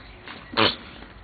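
A single short, sharp sneeze bursts out once, close and fairly loud, in an indoor room.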